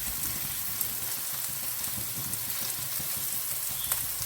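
Hot oil sizzles continuously as mustard seeds splutter, with a fine, dense crackle and faint pops, close up, with no voices.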